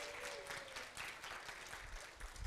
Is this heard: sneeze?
no